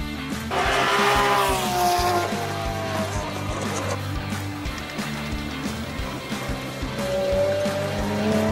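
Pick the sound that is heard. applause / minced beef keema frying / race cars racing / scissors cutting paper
race cars racing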